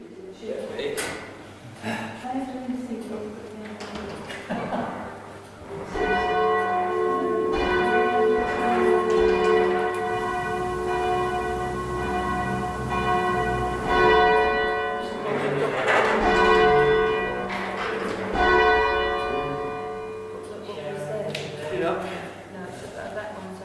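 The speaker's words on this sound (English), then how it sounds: "it's time to get the bells up" Church bells, including a 1200 weight tenor, being rung up, their clanging strokes swelling and ringing on with sustained overtones while a person talks over them throughout.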